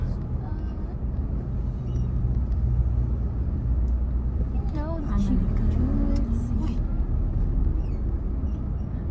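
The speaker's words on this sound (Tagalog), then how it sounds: "we're stuck here in the traffic" Road traffic on Davao Coastal Road during a jam, a steady low engine rumble of idling and slowly moving cars under continuous conversation in the vehicle.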